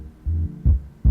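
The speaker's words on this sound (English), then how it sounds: "You guys already hear the distortion right there." A soloed low band of a beat, boosted during mastering until it distorts, gives three short, heavy, buzzing low-end thumps separated by brief pauses.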